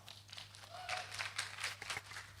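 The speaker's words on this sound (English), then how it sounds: "So big round of applause for Jerry." Audience applause for a guest named Jerry, a faint, sustained patter of many hands clapping at a distance, steady and fairly quiet throughout.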